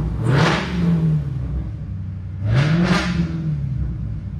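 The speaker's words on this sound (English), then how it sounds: "Let's give it a couple of revs here." A 2020 Dodge Challenger SRT Hellcat engine with about 35,769 miles revs twice, each rev rising in pitch then falling back to a low idle rumble, close and fairly loud.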